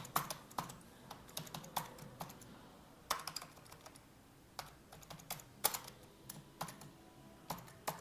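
Steady typing of code on a computer keyboard while building an Android weather app, crisp key clicks and occasional louder strikes in an uneven rhythm over a low background hum, with no voices.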